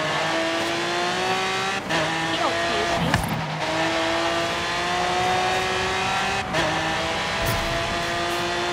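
Racing cars roar through a Forza Horizon 3 race, engines droning and shifting pitch steadily with occasional revs and tire noise, while players talk over the action.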